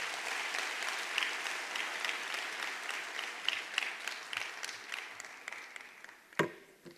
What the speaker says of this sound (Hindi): जोरदार तालियां होनी चाहिए सर के लिए।